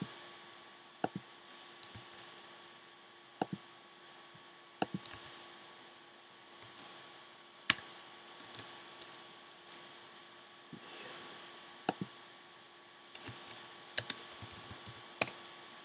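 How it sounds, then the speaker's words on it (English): A computer mouse and keyboard click sparsely in a quiet room as a Google Sheets spreadsheet is worked on, single crisp clicks spaced irregularly every second or two, close and faint against a steady background hum. "All I'm doing is clicking and dragging, copying and pasting."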